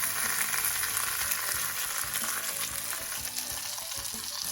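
Mangalitsa pork chops fry in a pan with butter, garlic and sage leaves, making a constant loud crackling sizzle with faint low clatter underneath.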